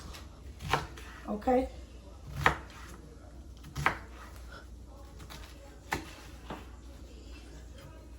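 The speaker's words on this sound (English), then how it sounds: "I'm cutting this onion up because I do need to use it for something else" Knife chopping an onion on a cutting board, a few sharp, irregular cuts spread across the stretch, fairly close, with a brief spoken word and faint room noise between the strokes.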